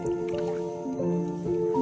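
A chimpanzee scoops water from a pit with both hands, giving soft close splashes, drips and squishy wet sounds over a steady low background hum.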